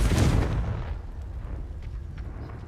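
A Confringo fire spell from Hogwarts Legacy goes off as one heavy, booming blast that rumbles and fades away over a few seconds.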